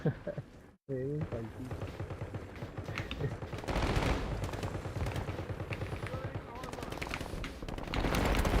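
Call of Duty gunfire: rapid automatic bursts and single shots ring out close and loud, nearly continuous, over game noise, with a short silent gap near the start and a voice talking briefly.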